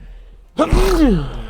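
One sudden sneeze bursts out close and loud after a quiet moment of conversation, a sharp intake followed by a falling, voiced exhale; a few words are spoken just before it.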